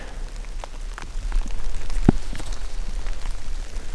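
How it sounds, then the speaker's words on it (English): Steady rain patters on a surface, a dense hiss that swells and thickens partway through, with scattered louder drops. "Here comes the rain."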